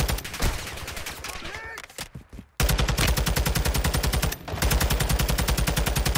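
Rapid automatic gunfire in Warzone 2 on Ashika Island, loud and close, with dense bursts, a brief lull with a voice talking, then sustained fast fire to the end.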